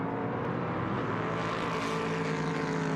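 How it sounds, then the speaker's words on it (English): Prototype race car engines at Lausitzring during a Prototype Cup Germany race, a loud, steady growl along the pit straight with a broad, sustained roar and no voices. "Trying to leave some space so you can hear the growl of these engines out along the pit straight."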